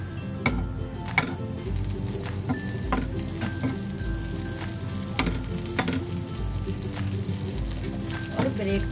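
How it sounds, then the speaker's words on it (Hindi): Butter heating in a hot pan on a gas stove, a steady close sizzle with crackles and occasional clinks of a utensil against the pan, and a voice talking over it. "तो हमने पेन चढ़ा लिया है गैस पे और गरम हो चुका है, इसमें डाल देंगे बटर और इसको गरम कर लेंगे"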